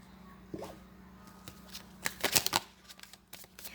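Tarot cards shuffled by hand, a few soft riffling bursts and taps that build into a quick run of crisp card snaps, close and clear in a quiet room.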